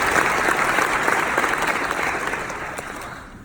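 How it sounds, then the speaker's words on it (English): A graduation audience at Oxbridge Academy claps together in a full, dense round of applause that holds strong, then gradually thins and fades toward the end. "Let's first give ourselves, our parents, and our peers a quick round of applause."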